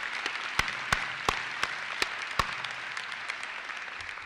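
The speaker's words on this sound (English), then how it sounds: "let's give them a round of applause to show them how much we appreciate their support and sacrifices" Applause from a graduation audience at a university commencement, steady broad clapping from a crowd with a few sharper individual claps standing out, moderately distant and fading slightly toward the end, with no voices.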